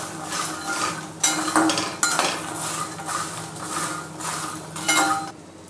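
A spoon stirs and tosses makhana chiwada with salt in a metal pan, producing continuous scraping and rustling with occasional sharper clinks of utensil against the pan, close and steady.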